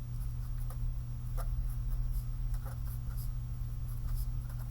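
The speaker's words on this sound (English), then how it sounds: "So I'm going to write that down." Handwriting with a pen on paper, faint scratchy strokes in short bursts over a steady low hum, with no talking.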